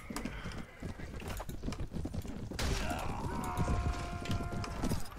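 Horse hooves clatter in Mount & Blade: Warband, a medieval battle game, mixed with combat clashes and battle noise; a steady, busy din throughout.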